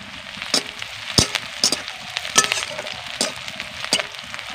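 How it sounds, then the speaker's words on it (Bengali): Chopped onions frying in a pan give a steady, close sizzle and crackle, with sharp spatula clicks and scrapes at irregular intervals throughout. "পেঁয়াজটাকে আমি নরম করে ভেজে নেব"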